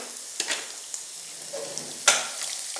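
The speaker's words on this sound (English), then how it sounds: "And this has to saute for some time." Food sizzles in a hot pan with a steady crackling hiss, broken by a few scraping stirs and clinks. No one speaks.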